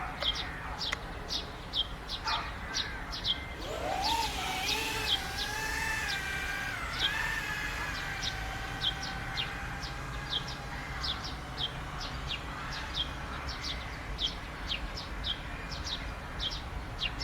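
Repeated short bird chirps ring out steadily outdoors, a bright tweeting pattern through the whole stretch, while a sustained droning tone with shifting pitch rises from about four seconds and hums beneath them.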